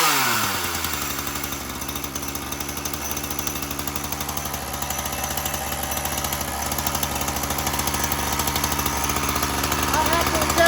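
A Ryobi chainsaw's small two-stroke engine runs at a fast idle, a steady loud buzzing drone that holds for several seconds after a brief start-up surge.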